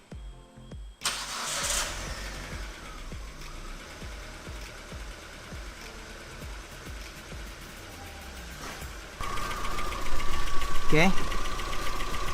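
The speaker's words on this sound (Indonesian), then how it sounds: "Sekarang kita mau coba hidupkan atau on kan start engine." A Proton Saga BLM engine cranks and catches, then settles into a steady, slightly knocking idle before revving up louder near the end. A voice speaks briefly over it.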